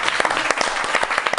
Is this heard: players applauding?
yes